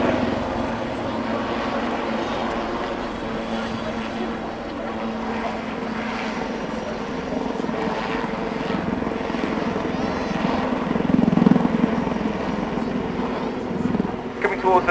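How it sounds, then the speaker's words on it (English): A steady, loud turbine whine and rotor drone from two Lynx helicopters overhead, holding throughout with a brief swell near the end, with a voice talking over it. "Really hear those jet engines hard at work now."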